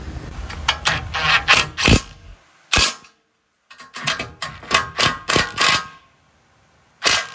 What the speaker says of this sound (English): So I'm just gonna put the hardware to tighten it